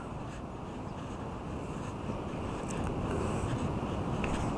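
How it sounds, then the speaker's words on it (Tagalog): Strong ocean waves at a beach surf camp make a continuous, loud rushing roar with gradual swells and some wind noise on the microphone, and no voices. "Malakas yung alon, pero masarap maligo pag ganyan malakas ang alon."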